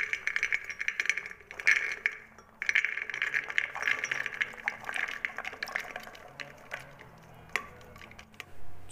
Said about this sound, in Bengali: এখন আমি এই কাবলি ছোলাগুলো প্রেসার কুকারে দিয়ে দেবো